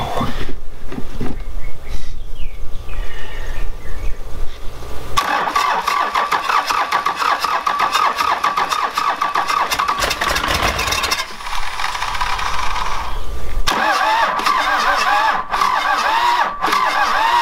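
A Cummins engine with a flywheel rubbing hard cranks over and tries to start: loud, close starter grinding and chugging in long bursts with brief breaks between attempts, rough and uneven throughout.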